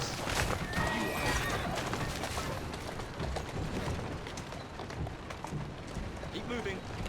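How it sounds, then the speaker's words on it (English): A horse whinnies loudly near the start in Assassin's Creed Syndicate, with clip-clopping hooves and carriage rumble continuing beneath; voices talk over the busy game sounds. "Who's a good horse? You are."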